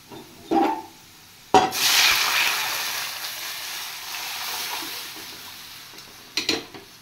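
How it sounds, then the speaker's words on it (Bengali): Dal is tipped into a pan of frying onions: a utensil clack, then a sudden loud hiss that surges and slowly settles into a steady sizzle, with another clatter near the end. "এবার আমি ডালটা ছেড়ে দেব।"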